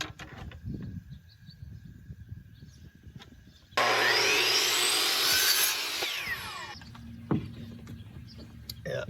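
Power saw slicing through a wood board for a shed build, a sharp, loud burst of cutting lasting about two seconds, set between quieter stretches of handling noise and light thumps.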